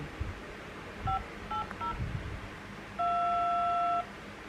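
Telephone keypad tones sound as a number is entered on a phone: three short distinct beeps in quick succession, then a longer steady tone about a second long, clear and close over faint background noise.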